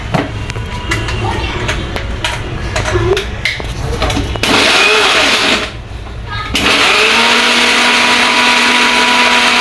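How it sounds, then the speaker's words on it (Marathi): A mixer grinder grinding masala for Hyderabadi chicken: a loud, steady motor whir that shifts pitch and briefly dips partway through, then resumes at full strength. "हा मसाला ग्राइंड करायचा आहे."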